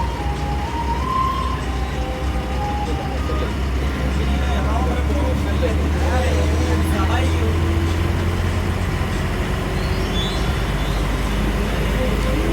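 Heavy road traffic heard from inside a new air-conditioned super-fast premium bus travelling from Trivandrum to Ernakulam: a constant loud engine and road rumble with passing vehicles and horns, and faint voices in the cabin.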